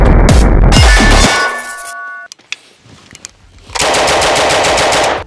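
An M3 grease gun submachine gun fires in loud, rapid bursts, with a short burst at the start, a pause filled with echoing clinks and faint noises, then a long sustained burst of automatic fire.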